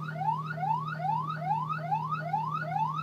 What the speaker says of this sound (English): I think there's nobody inside because he turned up the siren, but drive so slow.